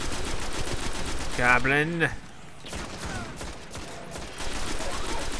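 Rapid gunfire in the shooter video game Destiny on Venus, dense overlapping shots running through the whole stretch, with someone briefly speaking over the game sounds.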